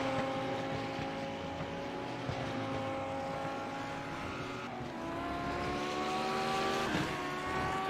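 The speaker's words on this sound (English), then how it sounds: "We're just waiting on them to come across the start-finish line now." Lamborghini Super Trofeo race cars crossing the start-finish line at Autodromo Jose Carlos Pace, a steady roar of several engines with rising pitch sweeps as cars pass by, continuous and loud throughout.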